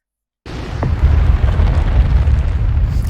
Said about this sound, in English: This is right from the explosion